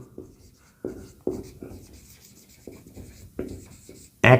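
A pen scratches across paper in short strokes with brief pauses between them, close and fairly quiet, while math problems are written out by hand.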